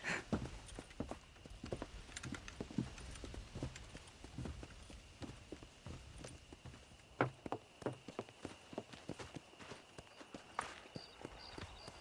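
Horse hooves clip-clop steadily in the Red Dead Redemption video game, an uneven walking rhythm of soft thuds over a faint outdoor ambience.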